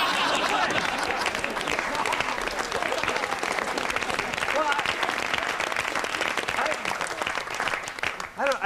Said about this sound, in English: I don't think you should be clapping.